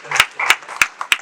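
Four sharp, separate claps at a poetry recital ring out at a steady pace, loud and near, with a voice underneath.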